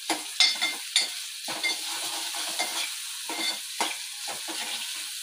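Onion sautéing in a pan over low gas for dal vajari, a soft continuous sizzle broken by repeated scraping stirs of a spoon, close and gentle with no talking.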